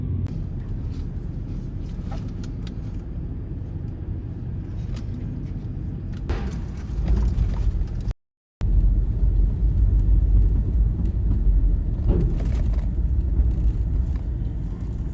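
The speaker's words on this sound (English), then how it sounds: "I'm just waiting for the cars in front of me." Cars rolling off a ferry dock onto Prince of Wales Island, Alaska, heard as a steady low rumble of engines and tires with a brief drop-out midway, no voices.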